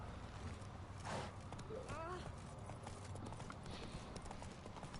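Hooves of Roach, a horse in the video game The Witcher, clip-clopping at a walk in a steady rhythm, moderately near, under a voice and game background sound.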